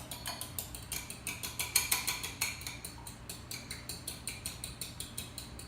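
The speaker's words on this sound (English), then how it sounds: "we whisk that up." A sauce seasoned with cayenne or red pepper flakes is whisked in a bowl, a fast, even run of light ticking clinks that stays steady and soft throughout, with no talking.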